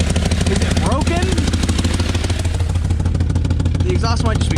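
A BMW E32 engine runs with a broken, largely missing exhaust, giving a loud, raw, rough drone close by, while people talk over it.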